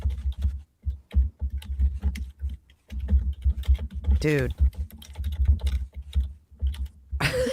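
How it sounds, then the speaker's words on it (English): Fingers tap rapidly on a computer keyboard in a steady stream of clicks, broken by a few short pauses. A voice speaks briefly over the typing, and a low hum runs underneath throughout. "Her typing."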